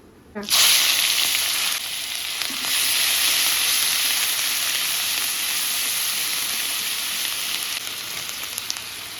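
Nigella seeds and onion paste hit hot oil left from frying prawns, bursting into a loud sustained sizzle that holds steady for several seconds with a faint scrape of stirring.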